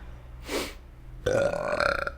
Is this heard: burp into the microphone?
yes